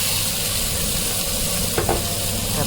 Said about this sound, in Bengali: কিছু টমেটোর ক্যাপসিকাম এগুলো কুচিয়ে রেখেছিলাম ওইগুলো এর মধ্যে হালকা করে একটু সতেজ করে ভাজতে হবে